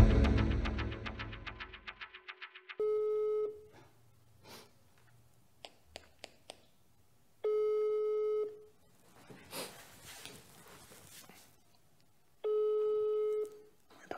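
Telephone call that goes unanswered: a loud buzzy tone opens, then three long steady ringback tones spaced several seconds apart, with faint breathing and small clicks between them and no one picking up.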